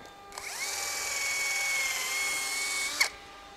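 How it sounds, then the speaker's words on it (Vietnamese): A power drill runs steadily at high speed, fitted with a bit for drilling by hand, spinning up and holding an even whine for about two and a half seconds before stopping with a small clunk. "Khoan bình thường ha."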